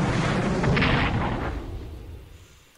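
Bomber attack explosions in the Strategic Command WAW strategy game: a sustained, heavy rumbling barrage of blasts that starts loud and gradually fades out over a few seconds, with no talking.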